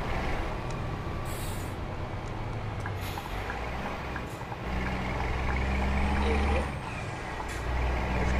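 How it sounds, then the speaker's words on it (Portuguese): A heavy truck rumbles in Euro Truck Simulator 2 on Android, with a low diesel drone, hissing air-brake bursts and short beeps as it joins a convoy, and a player speaks briefly over it. "Chegou mais um caminhão pro comboio aí."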